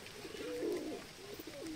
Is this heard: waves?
no